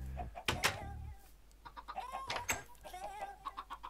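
A black chicken in the video game Minecraft clucks in short repeated bursts, fairly close and clear, with a couple of sharper accented clucks among the steady pecking calls.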